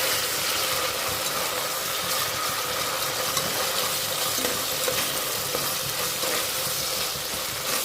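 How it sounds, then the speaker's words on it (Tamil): Onions and ginger garlic paste sauté in oil, producing a dense continuous sizzle with faint stirring scrapes throughout, steady and close, with no talking. "இந்த ராஸ்மல் போகிற வரைக்கும் கொஞ்சம் வதங்கட்டும்"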